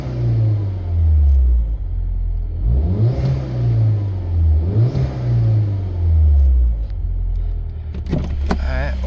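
Inside the closed cabin of a 2013 Mini Cooper JCW R58, the engine rumbles at idle and rises in several swelling revs before settling back, loud and continuous.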